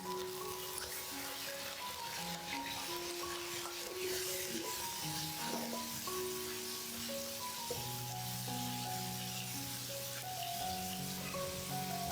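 Minced pork stir-fries in a hot oiled wok, giving a steady rain-like sizzle and hiss throughout, with background music playing underneath.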